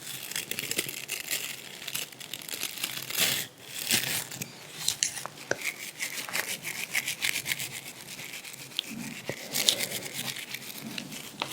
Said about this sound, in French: Et c'est une brosse pour les ongles.